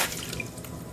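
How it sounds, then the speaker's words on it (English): A BumGenius cloth diaper sprayer blasts water onto a diaper, giving a steady hissing spray with small splashy drips, close and fairly soft. "move the sprayer around to kind of spray off a bigger area of the diaper"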